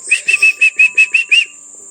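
A whistle is blown as a signal, giving eight short, sharp, evenly spaced shrill blasts close by.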